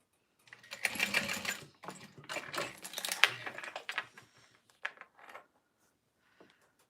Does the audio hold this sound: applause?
no